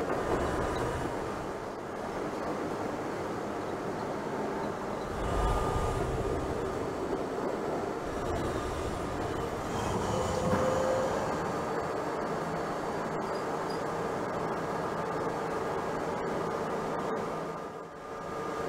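A New York City subway J train in Trainz Simulator 2012 runs along the Myrtle viaduct toward Broad Street, with a continuous rumbling rail roar, faint clicks and a brief tonal squeal partway through.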